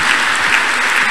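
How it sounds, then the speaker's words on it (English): A church congregation at a Thursday prayer service claps loudly and densely in a brief, continuous burst, close and full. "Clap for Jesus."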